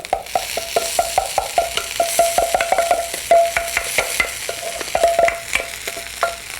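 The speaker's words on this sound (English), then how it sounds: "Saute them all up, mix them all together." Rice and vegetables sautéed together in a pan and stirred with a wooden spoon: a steady sizzle with a run of quick scraping, clattering stir strokes, close and clear, with no talking.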